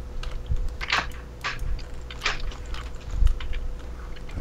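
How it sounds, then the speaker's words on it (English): Computer keyboard keys clicked by a player during a Minecraft Hunger Games match, heard as irregular bursts of close, moderately quiet typing clatter with short pauses and no talking. "I hear him clicking."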